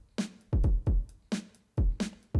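A sampled drum loop runs through a Valhalla Room reverb that adds body around it: punchy booming kicks alternate with bright snare cracks in a steady groove, each hit trailing a short roomy tail, no voices.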